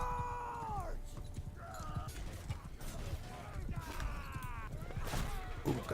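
Horse hooves pounding at a gallop in Mount and Blade 2: Bannerlord, a steady clip-clop over a busy battle mix with the occasional whinny, creaks and a speaking voice layered on top.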